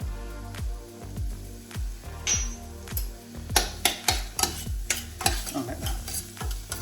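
Lasagne filling with thyme sizzles softly in a pan while a spoon stirs it in a steady rhythm of scrapes and knocks that grows busier and louder toward the end. Someone says a few words partway through.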